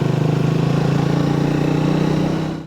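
A motorcycle engine riding a road toward a forest on Arran, a loud, steady droning hum that holds even and then fades out at the end.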